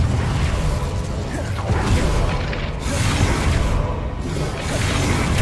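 Incendio fire spell blazing in Hogwarts Legacy: a dense, roaring burst of flame with whooshing surges and low rumbling, loud and close, running continuously throughout.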